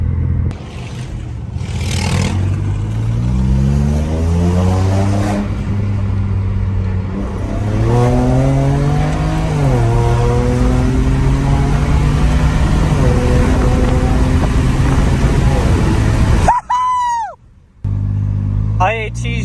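BMW 335i with an N54 engine, making about 500 hp with a new intercooler, pulls hard. Rising harmonic sweeps repeat through several gear shifts for most of the run, then a brief drop and chirp at the end. No one speaks.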